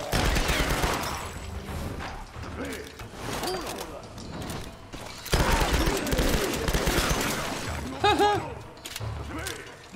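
Rapid gunfire bursts from the Tomb Raider video game, fighting Oni warriors, rattle densely throughout with mechanical clicks and metallic ringing, loud and close, mixed with game action noise.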